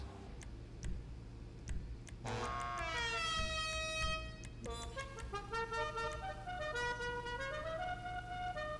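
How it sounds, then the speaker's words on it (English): Musical car horn on a De Tomaso P7 in GTA 5 Online plays a rising, tuneful sequence of sustained horn notes over a steady engine idle, loud and alone after a few brief ticks. "this car deserves a musical horn"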